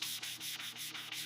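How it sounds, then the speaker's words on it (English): Body filler on a motorcycle part being hand-sanded, a steady abrasive scratching in rapid back-and-forth strokes, close and continuous with no talk. "Sanding, sanding, and more sanding."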